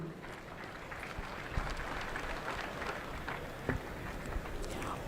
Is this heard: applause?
yes